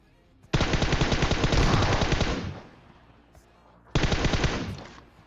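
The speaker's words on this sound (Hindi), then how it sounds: "खैर मैं साइड में जाता हूं, बिल्कुल उजी चिपकाता हूं।" Uzi submachine gun fire in PUBG Mobile, a loud rapid automatic burst lasting about two seconds that trails off, then a second burst a moment later.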